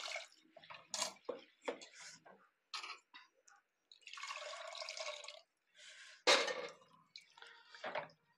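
Water pours and splashes in bursts into a pot of lentils mixed with salt and chilli, gushing intermittently at close range with brief pauses.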